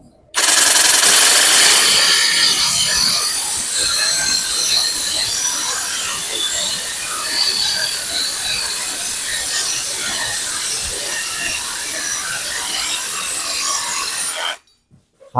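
A MASARU SCSR 445 cordless reciprocating saw with a metal-cutting blade rasps steadily through steel, a loud, continuous buzzing grind that runs for over ten seconds before abruptly stopping.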